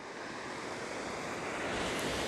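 Sea waves rolling in on a shoreline at morning, a continuous broad wash of surf with wind noise on the microphone, steady and slowly swelling in level, no voices.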